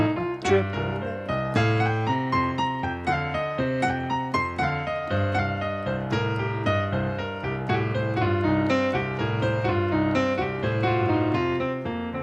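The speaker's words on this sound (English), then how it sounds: "That's the sound of triplets." A blues guitar plays intermediate triplet lines with upward slides into notes, a busy, continuous run of plucked phrases heard close and alone, with no talk.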